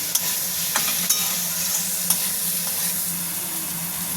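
Pointed gourd fries in a pan of oil for a potato and pointed gourd curry, with a continuous sizzle and occasional sharp spatula knocks as it is stirred.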